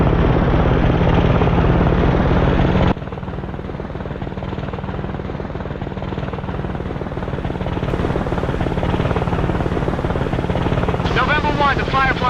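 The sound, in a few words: helicopter in the video game Arma Cold War Assault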